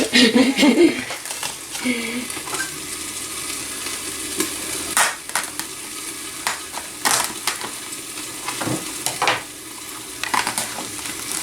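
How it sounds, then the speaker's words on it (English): Chicken cooks in a pan, with a soft, continuous sizzle under repeated scraping and stirring strokes and occasional clattering knocks of utensil against cookware, heard close up. "I'm cooking some chicken to go for us."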